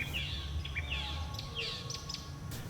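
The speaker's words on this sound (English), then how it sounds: "The Northern Mockingbird is a most prodigious singer." A Northern Mockingbird sings a run of quick, varied chirps and whistled phrases over a low background rumble, moderately close and clear.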